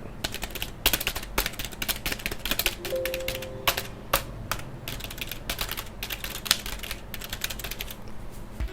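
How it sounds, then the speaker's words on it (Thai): Steady, quick clicking of fingers typing on a standard Signal computer keyboard, close up, with irregular key taps continuing throughout and no talking. "อันนี้คือคีย์บอร์ดธรรมดาที่ผมใช้อยู่นะครับของ Signal ลองฟังนะครับ"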